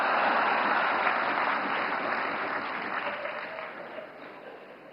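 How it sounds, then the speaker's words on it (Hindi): A large crowd at the Navkar Mahamantra Divas inauguration applauds, dense steady clapping that slowly fades over several seconds with no voices. "नवकार मंत्र के लिए जितनी ताली बजी, उससे ज्यादा जीतों के लिए बज रही है।"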